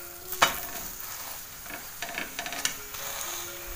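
An onion paratha roasts on a hot griddle over high gas, giving a soft steady sizzle with a sharp scrape and several small clinks as it is pressed and turned.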